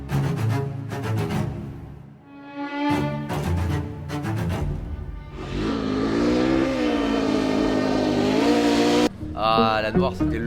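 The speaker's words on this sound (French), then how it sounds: "C'est pas rien de rouler là-dedans avec nos motos." Motorcycles ride through desert sand dunes, engines revving and surging up and down in pitch, loud and close, with a long sustained drone mid-clip and a sharp change near the end.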